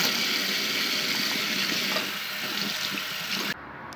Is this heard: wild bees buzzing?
no